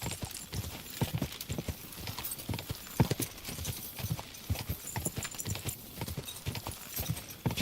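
Horse hooves clip-clop in a steady trotting rhythm in Kingdom Come: Deliverance 2, moderately loud and continuous throughout with faint background ambience.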